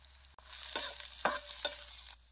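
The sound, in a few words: kharda spice paste, onion and turmeric frying in oil, brass pan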